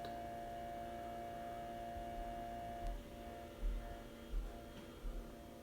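Refrigerator compressor runs as a faint, steady electrical hum with constant tones, and a few soft low thumps occur near the end.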